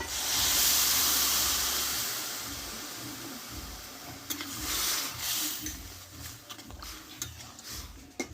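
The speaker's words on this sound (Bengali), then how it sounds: "এইবার এইখানে কিছুটা আমি একটু গরম জল অ্যাড করব" Hot water poured into a pan of soybean curry: a loud, steamy hiss bursts up at first and fades over a couple of seconds, followed by softer bubbling and scattered light taps.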